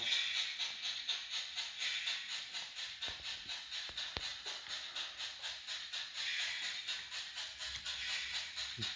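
The Chili Line inspection train passes the station, a faint, steady steam hiss with a rhythmic chuffing pulse, a few sharp clanks midway, heard from a distance with no voices.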